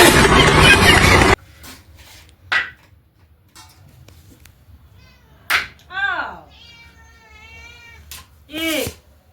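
A pet cat meows several times in a home kitchen, clear rising and falling cries with pauses between them, after a burst of louder noise at the start and with faint background sounds.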